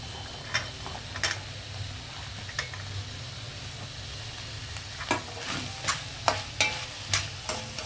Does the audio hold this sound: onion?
yes